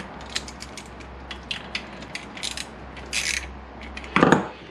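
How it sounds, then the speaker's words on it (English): A small screw is fitted back into the engine of a 1998 Kawasaki ZX9R motorcycle: close, light metallic clicks and ratcheting ticks come in irregular bursts over a quiet background hum, with a brief louder rattle near the end. "Fit that little screw back in so that she doesn't get lost."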